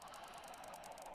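Chickens in Minecraft, a soft burst of rapid clucking and gobbling chatter, faint and brief, with no voices.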